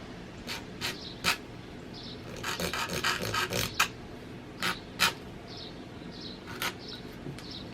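An acrylic nail is filed up and down to shape it, giving short, bright rasping strokes in irregular bursts, some quick clusters and some single swipes, close and fairly quiet with no talk.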